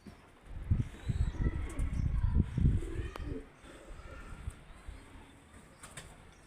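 Low, soft pigeon cooing rumbles close by with some wing flutter, over faint background noise and a quiet voice.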